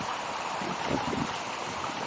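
Floodwater from heavy rain rushes steadily along a street in the UAE, a broad, constant wash of flowing sound with faint wind, no voices.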